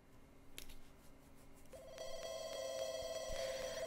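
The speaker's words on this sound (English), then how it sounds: "Phone's ringing." Telephone ringing in The Sims 2 life-simulation game, a repeating electronic ring that starts partway through and continues steadily, with no talk over it.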